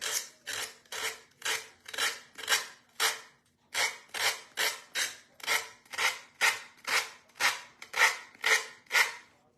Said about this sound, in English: when I get done sanding this off of here